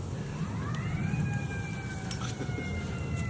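An ambulance siren wails across a park lagoon, its tone sweeping upward and then holding steady over constant outdoor background noise, moderately distant and with no speech.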